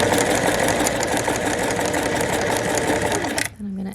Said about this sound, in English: I'm going to point my sewing towards that line of stitching until I'm lining up with it and stitching right over it